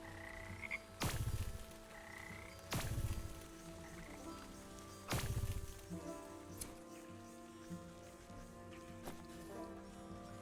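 Frogs croak in the Wytchwood video game, several loud, close low bursts spaced a couple of seconds apart, with a steady ambient game soundscape in between and no talking.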